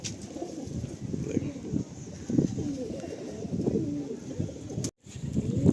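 Pilanka pigeons coo in a loft, with low soft repeated coos close by, murmuring steadily and briefly cut off near the end.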